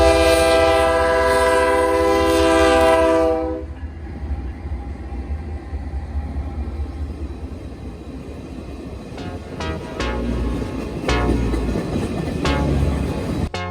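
A northbound loaded limestone freight train led by two C6M locomotives opens with a loud, sustained horn blast, then the rumbling consist rolls past with clanking wheels and several sharp rail clicks.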